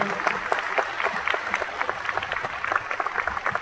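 Steady, fairly loud applause from a convention crowd at a Toulouse actor panel, dense rapid clapping throughout with faint voices mixed in.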